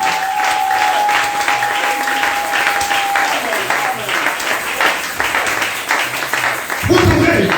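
Church congregation applauding and cheering for Jesus, a loud, sustained wave of clapping from a large crowd with a voice speaking over it, ending in a swell of cheering.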